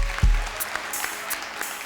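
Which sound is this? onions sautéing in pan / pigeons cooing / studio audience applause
studio audience applause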